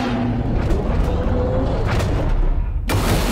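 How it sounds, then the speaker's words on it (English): A kaiju's fire breath attack in Garry's Mod roars as a loud, continuous broadband blast, with a sharp fresh burst near the end. "Fire Breath!"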